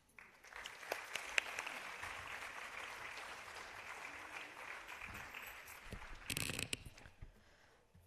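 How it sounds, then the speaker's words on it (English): An audience at a Bharatanatyam arangetram applauds, the clapping swelling quickly, holding steady for several seconds with a brief louder burst near the end before fading. "Let us have a round of applause."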